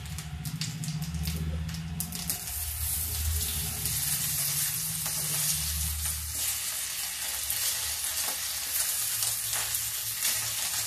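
Cumin seeds and cut potatoes sizzle and fry steadily in a hot pan for a fasting meal, a loud, continuous crackling hiss with occasional stirring scrapes and clatter throughout.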